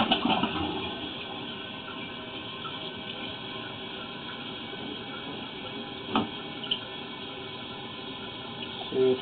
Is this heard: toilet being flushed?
yes